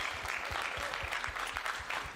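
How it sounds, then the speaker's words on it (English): A short burst of steady applause for a fighter at a boxing weigh-in, moderately loud and continuous, with rhythmic low thumps running underneath. "This guy deserves a round of applause"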